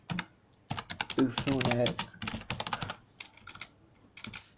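Rapid clicking keystrokes on a computer keyboard, typed in short bursts close up while someone talks over them.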